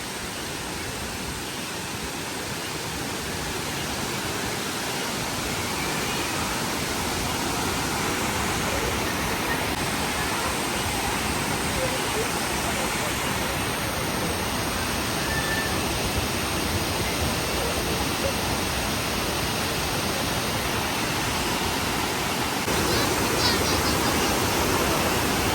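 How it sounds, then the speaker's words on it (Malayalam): Thusharagiri waterfall roars steadily as a broad, unbroken rush of falling water, loud and close throughout with no clear voices over it. "ഫസ്റ്റ് വാട്ടർഫാൾ കാണാൻ പോവാം."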